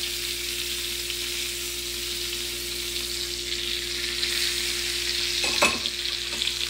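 Salmon sizzling and frying steadily in a pan while being cooked, a continuous close crackle with a brief louder burst of hissing spatter as the fish is turned on its side.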